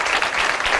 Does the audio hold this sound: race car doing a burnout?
no